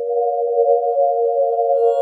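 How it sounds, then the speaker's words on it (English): A steady, buzzy modified sawtooth wavetable synthesizer tone holds one pitch for two seconds, with faint bright overtones creeping in near the end. "That is a modified sawtooth wavetable."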